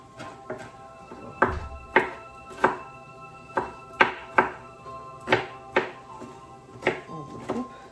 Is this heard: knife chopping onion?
yes